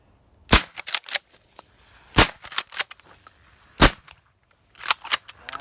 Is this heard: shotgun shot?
yes